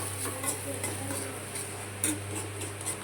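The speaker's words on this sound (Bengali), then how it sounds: "সুজিটা দিয়ে একটু নাড়বো" Semolina being stirred with a ladle in a pan for spicy suji, soft scraping and light metallic clinks over a faint background hum, with a couple of sharper knocks near the end.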